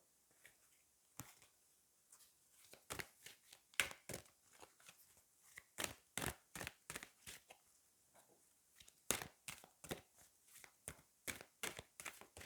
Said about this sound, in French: je vais prendre une carte du Queen of the Moon